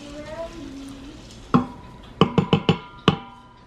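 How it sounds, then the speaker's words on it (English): A spoon gives food with seasoning salt and Worcestershire sauce a quick stir in a pot, making one clack and then a quick run of four or five sharp taps against the pot's side, close and loud over faint background hum. "seasoning salt, some Worcestershire sauce, and I'll just give it a quick stir."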